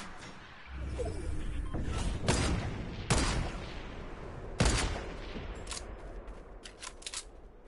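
Fortnite gunfire with several sharp shots cracking out irregularly, two or three especially loud and close, others fainter, over a low ambient background with no talk.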